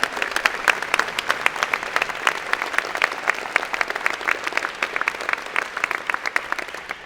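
A university convocation audience gives students a round of applause, scattered but steady clapping with distinct individual claps standing out, moderately loud and continuous.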